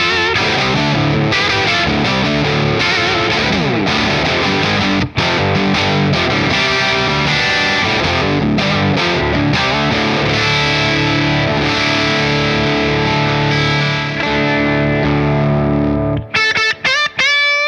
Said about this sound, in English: I may as well just plug the Les Paul in so you can hear the level of that